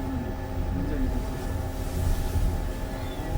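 The Wolmi Sea Train pulls into Wolmi Park station in Incheon, giving off a steady low rumble and hum of the rail car with faint tonal whines, close and continuous.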